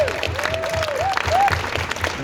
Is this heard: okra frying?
no